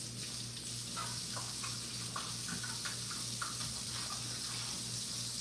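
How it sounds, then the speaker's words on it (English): Tap water runs steadily into a kitchen sink, a continuous close hiss with faint clinks and splashes throughout and no talking. "So now I'm washing out the sink."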